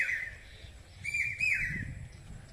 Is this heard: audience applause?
no